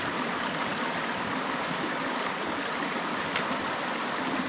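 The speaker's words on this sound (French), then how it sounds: "on est dans le méandre intérieur d'une rivière, plus précisément au début du méandre" River flowing around the inside bend of a meander, a steady close rushing and trickling water sound that stays even throughout, with no voices.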